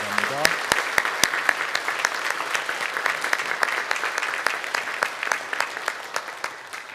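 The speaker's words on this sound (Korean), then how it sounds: "박수로 환영해 주시기 바랍니다." A church congregation claps in welcome during a Sunday worship service, a steady dense ripple of hands lasting several seconds, with a few sharp claps standing out near the start and a brief voice at the very beginning.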